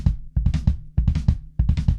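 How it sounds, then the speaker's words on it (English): A faster run of 32nd-note triplets between bass drum and floor tom, close and alone, rolling in four tight clusters of deep thuds with brief gaps between them. "What we're going to be playing here is 3 30-second note triplets between the bass drum and the floor tom."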